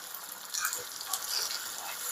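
Chopped onions sizzle in hot tempering oil for a South Indian buttermilk curry, a steady, fairly faint frying hiss with a slightly louder burst partway through and no talking.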